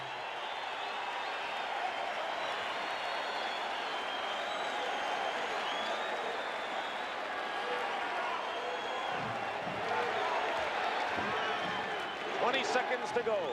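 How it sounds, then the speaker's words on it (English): A basketball arena crowd roars and claps steadily near the end of a Pistons game 7, a continuous loud wash of noise beneath a play-by-play announcer's talk. "Crowd begins the celebration now."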